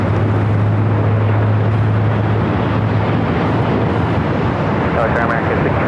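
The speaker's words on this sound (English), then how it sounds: "Let's go to our next arrival, Air Canada 737 MAX 8." Air Canada Boeing 737 MAX 8 airliner arriving at LAX, a steady broadband jet roar with a low engine hum that fades partway through, close and loud throughout, with no voices.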